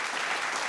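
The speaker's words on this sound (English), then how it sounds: "Round of applause." A studio audience at a televised vocal singing competition claps in a short, dense burst of applause, loud and steady, with no voices over it.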